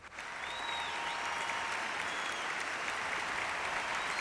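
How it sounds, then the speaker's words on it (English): A steady crowd applauding, dense continuous clapping that starts abruptly and holds at an even, loud level throughout. "Let's get a big round of applause."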